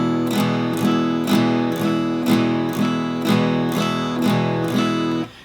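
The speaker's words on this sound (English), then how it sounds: "Now if I tried to hit all the strings, it would sound like this." Acoustic guitar strummed with upstrokes that hit all the strings: loud, even strums in a steady rhythm, each ringing into the next, close and alone.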